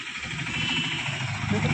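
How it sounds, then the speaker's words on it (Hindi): A tractor engine runs with a steady, close mechanical rumble and idling vibration, while people talk over it throughout. "ट्रैक्टर।"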